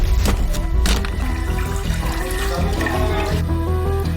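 Water poured out in a continuous, loud splashing stream inside a house, steady throughout with no talk over it.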